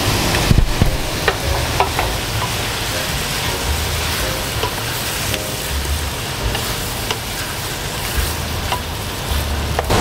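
Vegetables fry and get stirred in a pot as tomato sauce goes in for Spanish Madrid-style tripe stew, a loud steady sizzle with scraping stir strokes throughout and no talking.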